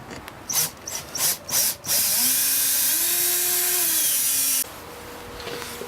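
Power driver running screws back into a door hinge: a few short whirring bursts, then one sustained, rising and falling motor whine of about three seconds, loud and close, with no talking.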